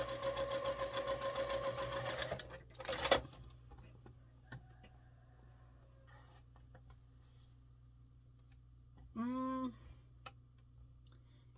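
A sewing machine stitches quilt block pieces in a steady fast run of needle strokes for about two seconds, then stops; a few soft clicks and handling noises follow, with another short whirring burst later.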